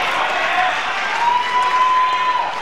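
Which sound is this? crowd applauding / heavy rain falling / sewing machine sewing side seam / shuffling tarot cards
crowd applauding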